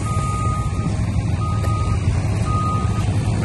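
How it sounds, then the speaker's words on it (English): A bulldozer pushes lime on a parking lot site while a truck nearby sounds repeated reversing beeps over a steady low engine rumble. "pushing it in with the dozer where the truck can't get"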